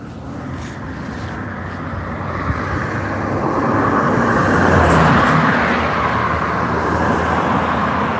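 A car sweeps past on an open road in an aggressive overtake, a broad whooshing roar that builds and peaks midway before easing off, steady and fairly loud with no voices.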